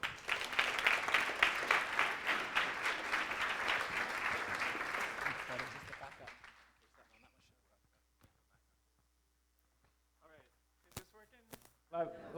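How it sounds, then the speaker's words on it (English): A conference audience gives a warm round of applause, dense clapping for about six seconds that then fades out, followed by a near-silent pause and a few faint knocks and handling noises. "So I'd love to have a warm round of applause to everyone for Chris Kresser."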